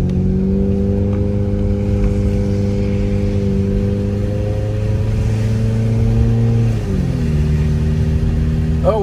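Car engine humming steadily while driving through snowy back streets of Big Bear, California during a winter storm, a close, continuous drone that shifts pitch as the car slows and changes gear near the end.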